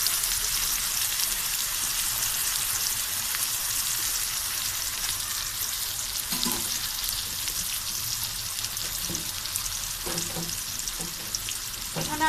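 Potato pieces and shrimp frying in hot oil as spices are added for a rohu fish curry with potatoes and flat beans, a continuous close crackling sizzle with a few stirring clinks near the end.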